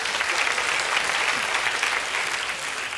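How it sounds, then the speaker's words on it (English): Steady applause from a theater audience at a 1987 Broadway stand-up comedy show, dense and even clapping filling the whole stretch without pause. "no one with yellow fingertips clapped for that"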